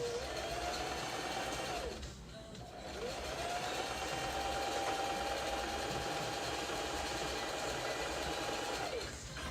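A sewing machine runs in a steady, continuous whir, breaking off in a brief pause before resuming an even, sustained stitching hum at moderate volume.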